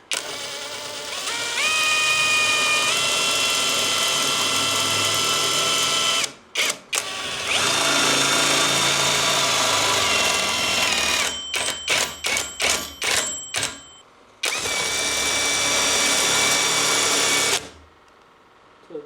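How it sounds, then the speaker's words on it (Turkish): A nut-tightening machine drives a 17 mm lug bolt, giving a loud, steady mechanical whine that rises in pitch, then breaks into a run of rapid ratcheting bursts and stops, heard alone without talk. "Evet burada böyle bir somun sıkma makinesi var"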